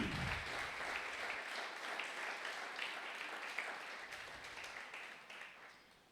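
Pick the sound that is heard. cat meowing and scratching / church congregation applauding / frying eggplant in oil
church congregation applauding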